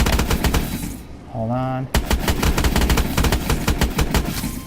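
An EPM3 energy weapon in Call of Duty Advanced Warfare fires rapid automatic bursts, loud and close, with a short pause and a tonal charge-like sound before the fire resumes at a fast steady rhythm; a brief spoken remark occurs during the pause.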